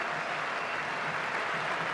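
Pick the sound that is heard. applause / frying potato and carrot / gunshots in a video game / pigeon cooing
applause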